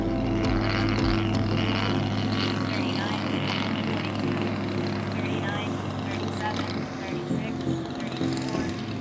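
A fixed-wing drone aircraft under manual control maneuvers into a landing pattern at a student aerial robotics competition; a steady, droning propeller hum runs throughout, with a voice talking over it.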